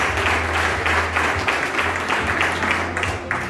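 Wedding guests clap steadily for the newlyweds, dense applause close by that holds throughout, over a low sustained hum and a few voices in the background.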